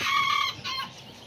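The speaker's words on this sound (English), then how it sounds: "look at that little rooster right there" A small rooster clucks and crows among a flock of Kikiriki hens and roosters. The calls are short and close, with a bright crowing burst followed by a quieter cluck.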